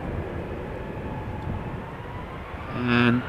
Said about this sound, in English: The next 737 from KLM is already lined up